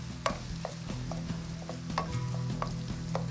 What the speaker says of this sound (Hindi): और प्याज भी फ्राई हो रही है।